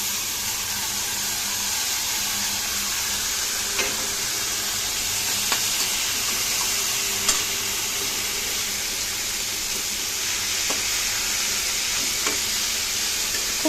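A seasoned lentil mixture frying with dried red chilli in a pan, a steady loud sizzle broken by occasional spatula taps and scrapes as it is stirred, close by and without speech.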